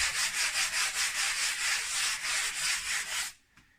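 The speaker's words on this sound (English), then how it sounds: "Very easy to use the sandpaper." Rhythmic back-and-forth scraping of sandpaper rubbed by hand over a bedroom wall to smooth small bumps, about a dozen even strokes close by, then stopping abruptly into near silence.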